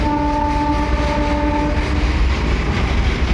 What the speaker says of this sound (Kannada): ಒಂದು ಟ್ರೈನ್ ಬಂತ ನೋಡ್ರಿ. ಗೂಡ್ಸು ಅದು ಕಲ್ಲಿದ್ಲ ತಗೊಂಡು ಬರತೈತಿ